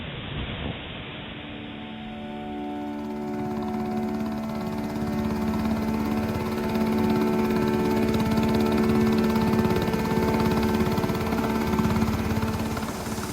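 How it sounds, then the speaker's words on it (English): Coast Guard helicopters flying over a disaster zone during a rescue operation, a steady loud rotor and engine roar that swells slightly and holds throughout, with no voices. "Coast Guard helicopters brought victims from the disaster zone one after the other"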